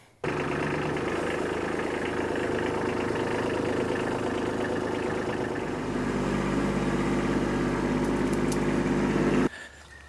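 A Kubota B2601 compact tractor engine idles steadily, a low, even diesel chug that deepens slightly midway, then cuts off abruptly near the end.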